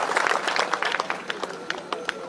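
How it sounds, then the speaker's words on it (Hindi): Audience applause at a cooperative society's foundation-day ceremony in India, scattered hand claps from a modest crowd, loose and uneven, with individual claps standing out and tapering off. "जोरदार ताली इनके लिए।"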